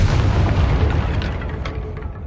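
A fiery spell blast goes off in a Harry Potter video game, a loud low boom that rolls out and slowly fades over a couple of seconds.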